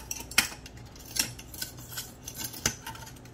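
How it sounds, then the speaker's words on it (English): Thin, hollow sheets of shaved ice drop into an ice bowl, giving a handful of sharp, crisp clicks and light clatters at irregular intervals, close and fairly quiet with no talking. "Y'all hear that thin ice hitting?"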